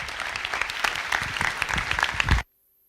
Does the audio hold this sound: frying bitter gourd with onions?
no